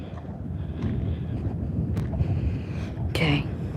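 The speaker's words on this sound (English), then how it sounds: "Ooh, wind's picking up." Low, steady wind by the sea rumbles against the microphone, a muffled blowing rush with a few faint knocks and brief higher noises.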